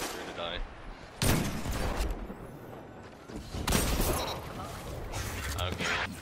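Auto rifle gunfire in a video game: loud bursts of rapid shots come in several clusters with booms between them. The fire is close and dense.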